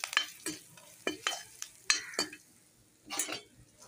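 A spoon stirs turmeric, salt, cumin, coriander and chilli in a frying pan, with sharp scraping clicks and sizzling bursts in an irregular rhythm, heard close and without talk.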